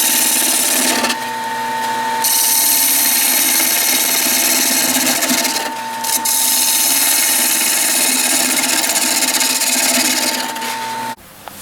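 Bowl gouge cutting a spalted maple segmented vase spinning on a wood lathe, a steady close scraping hiss with a constant motor hum, cutting pressure shifting in brief dips before the tool lifts off near the end.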